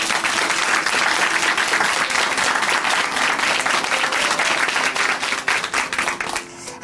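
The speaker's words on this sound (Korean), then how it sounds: "자매님께 귀한 간증 들려주셔서 감사하다고 다시 한번 큰 박수 보내드리겠습니다." A church congregation in Chuncheon gives a big, sustained round of applause after a testimony. The thick, even clapping fills the room and thins out only in the last moment.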